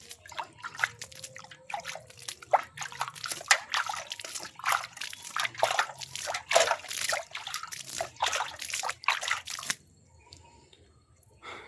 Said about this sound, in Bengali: এবার আমরা বসানো গাছগুলিতে জল দিয়ে দেবো।